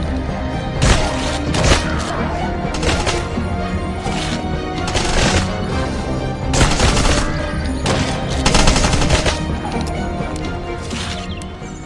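Rapid gunfire from a mobile shooter game with pistols, rifles and shotguns, heard as dense, loud bursts of shots and impacts over a busy game soundtrack.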